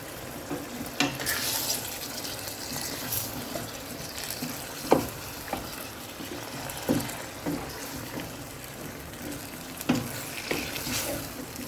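Potato pieces being stirred into a simmering fish curry in a pan, with soft scraping strokes and occasional clacks of the spoon over a steady low sizzle, close and moderately loud with no talking.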